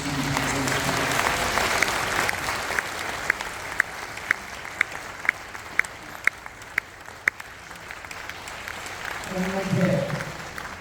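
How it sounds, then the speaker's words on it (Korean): A congregation at a church general assembly installation ceremony gives sustained applause to welcome the former general assembly president, dense and steady with a few louder individual claps, and a voice comes in near the end. "여러분 큰 박수로 환영해 주시면 감사합니다."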